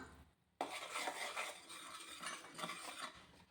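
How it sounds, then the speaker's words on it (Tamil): Rice flour is stirred in a bowl for athirasam, a spoon scraping and clinking against the vessel in a busy, continuous mixing rhythm after a brief quiet start. "இப்போ அரிசி மாவு போட்டுக்கலாம்."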